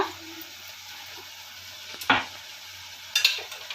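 Mutton chukka seasoned with ground pepper and cumin is stirred while it fries, a soft steady sizzle broken by a couple of louder scraping stirs of the spoon against the pan.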